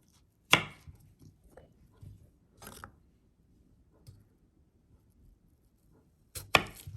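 A knife chops plantain on a board for sarkara varatti, a spiced plantain chip from a traditional Kerala sadya, with a few sharp, sparse, close chops separated by quiet gaps and a quick double cut near the end.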